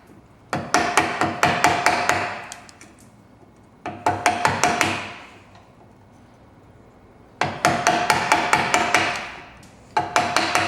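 A chisel is struck with a mallet to chop timber out between saw cuts for a tee halving joint, giving sharp, woody knocks in quick bursts of several blows separated by short pauses, close and clear.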